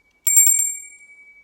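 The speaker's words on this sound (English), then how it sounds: "Next thing you get is this bell. So it's a nice little bell." A small metal hand bell with a painted wooden handle rings about four quick bright strikes close by, then its tone lingers and fades out alone.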